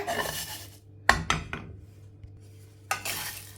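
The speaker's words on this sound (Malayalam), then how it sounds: "അടുത്തത് ഇനി ഞാൻ ഗരം മസാല വറുത്ത് വയ്ക്കുകയാണ്" Whole garam masala spices dry-roasting in a pan are heard as a rattling scrape of a spoon moving them, in short separate bursts with quiet gaps between, fairly close and faint.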